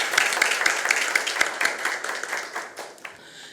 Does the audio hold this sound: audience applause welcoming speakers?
yes